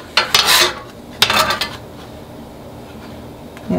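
A spatula flipping spelt bread in a pan: two bursts of metallic scraping and clinking close by, followed by a quiet hiss.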